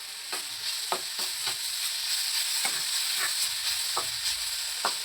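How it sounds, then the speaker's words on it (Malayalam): Bananas sizzle steadily in a pan while a spatula scrapes and taps at irregular intervals, close and moderately loud. "നമ്മുടെ പഴം ഒന്ന് നന്നായിട്ടൊന്ന് ഫ്രൈ ആയി വരട്ടെ"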